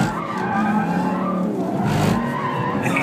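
A race car driven by The Stig skids and squeals its tires on a track in a continuous loud screech with engine roar underneath, sustained throughout.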